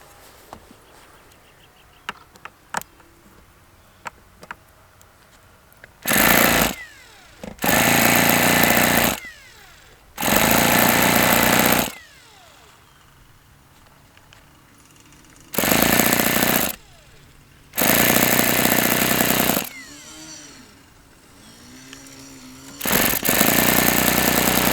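A Webra T4-40 model engine on its first run attempt fires in several loud, harsh buzzing bursts lasting one to two seconds each, separated by quiet gaps with faint clicks and handling noises.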